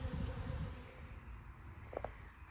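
Honey bees swarming around a hive after a cutout, a dense low buzzing hum that fills the background steadily throughout, with a couple of brief higher tones near the end.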